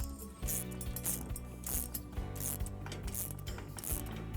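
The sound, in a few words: tightening a nut and bolt with spanners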